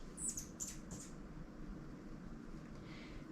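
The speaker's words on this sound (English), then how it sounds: "if you're hearing those chirps in the background, those are very angry hummingbirds" Angry hummingbirds give high, sharp chirps in a quick cluster early on, fairly faint over a steady outdoor background hiss.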